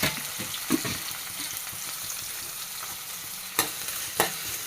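Sliced onion with cinnamon, cloves and cardamom sautés in hot oil in a pan, giving a continuous soft sizzle broken by a few sharp scraping stirs near the start and end.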